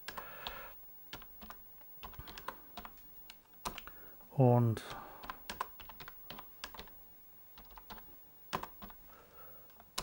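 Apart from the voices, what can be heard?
typing on a computer keyboard to enter C64 emulator input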